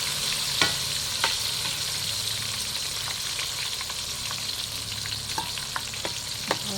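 Eggplant frying in cooking oil, a loud continuous sizzle heard up close, with occasional pops and stirring clinks and no voices.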